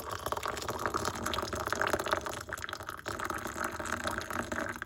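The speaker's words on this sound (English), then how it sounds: "I pour water to cover the top of tea bags." Boiling water poured from a kettle over two tea bags while making milk tea, a steady splashing and filling stream that runs continuously for about five seconds, close and fairly loud, with no talking.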